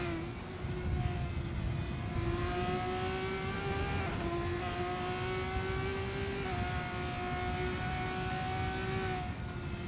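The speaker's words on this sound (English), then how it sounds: "Listen to the engine tones through this final sector" Race car engine in a sim racing game at Tor Poznan circuit, a steady loud drone whose pitch climbs through the gears with brief shift dips, continuous for the whole stretch with no talking.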